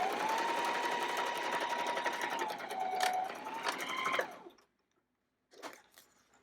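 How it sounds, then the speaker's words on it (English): A sewing machine runs a seam down a cloth diaper wet bag with a steady close-up hum for about four seconds, then stops, followed by a short burst of handling noise. "you can just go ahead and sew right down to the end"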